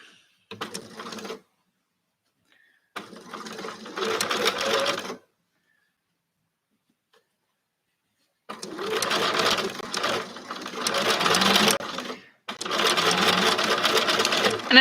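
Sewing machine stitching quilt fabric in rapid, whirring bursts, with several runs of varying length separated by silent pauses, close and clear.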